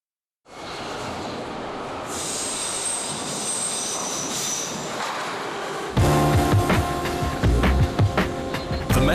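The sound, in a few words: Moscow Metro underground train running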